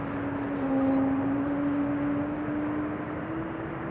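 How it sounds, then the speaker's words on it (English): KLM Embraer 190 regional jet arriving at Amsterdam Schiphol Airport on a flight from Geneva, a steady close engine roar with a sustained whine holding level throughout, swelling slightly early and then easing. "arriving from Geneva. This is an Embraer 90."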